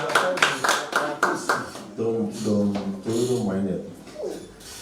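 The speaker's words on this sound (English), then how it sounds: "can we give her a round of applause?" A conference audience gives a presenter a burst of quick, rhythmic clapping that fades as a voice starts talking over the last of it.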